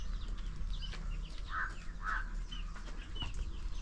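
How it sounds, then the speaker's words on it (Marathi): Free-range village chickens on a farm, a hen with four chicks among them, cluck softly in two brief bursts over a steady outdoor background hum, with faint wing flutters and other birds audible at a distance. "आणि ही एक कोंबडी आपली तिच्यासोबत सुद्धा 4 पिल्लं आहेत पाहू शकाल"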